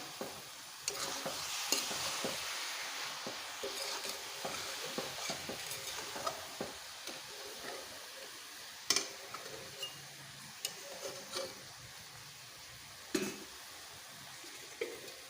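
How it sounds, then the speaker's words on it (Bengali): Coconut and jaggery mixture rubbed and pressed with a small pot while making gur narkel naru, giving a steady scraping, stirring texture with scattered sharper knocks and taps, fairly quiet and close. "এভাবে এই ঘটির সাহায্যে এভাবে ঘষে নেব তাহলে নারিকেলটা খুব সুন্দর একটা আঠালো তৈরি হবে"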